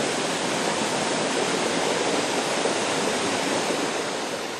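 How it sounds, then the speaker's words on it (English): A powerful waterfall on a creek in a deep forest, the Virgin Fall of the Ruizai Creek, roars as a steady, loud, broadband rush of falling water with no break and no voices. "It is a strong waterfall"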